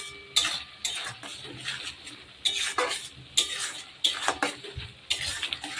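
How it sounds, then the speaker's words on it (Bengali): Spice masala for chicken kosha is stirred and fried in a pan: a steady sizzle broken by repeated close scraping strokes of a spoon, in an irregular rhythm, with no voices. "আমি মশলাটাকে ভালো করে কষিয়ে নিচ্ছি"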